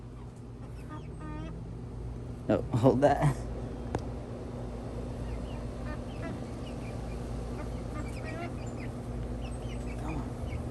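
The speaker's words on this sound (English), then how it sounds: "there's my little shoulder chicken." A small chicken kept close by gives soft clucks and short squawks among other fowl, with a brief louder burst of calls midway, while a person speaks quietly over the scene.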